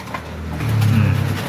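Pet pigeons cooing at a loft during loft flying, a close, low warbling coo swelling over soft background noise.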